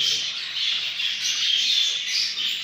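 Budgerigar chicks in a breeding box give a dense, continuous high squawking chorus, close and loud throughout with no voices.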